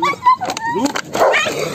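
A black dog barks and yips a few times close by outdoors, short sharp calls mixed with people talking over it.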